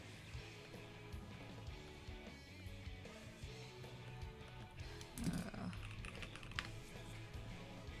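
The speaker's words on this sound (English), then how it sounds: "Also, I got a new keyboard. Very nice to type, very smooth. It's my first linear keyboard." Rapid typing on a linear mechanical keyboard, a continuous soft stream of keystrokes, very quiet and nearly buried under music.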